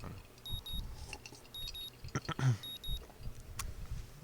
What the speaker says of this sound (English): I don't know why I keep the early alarm on anymore, but it wakes me up the next morning just the same